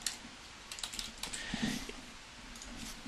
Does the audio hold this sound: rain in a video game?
no